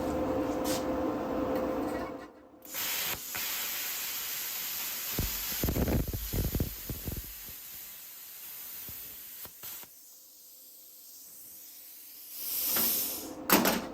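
Bestarc 500DP V3 plasma cutter slicing through metal, a harsh hissing roar that runs steadily, cuts out briefly and then resumes in short bursts before trailing off near the end.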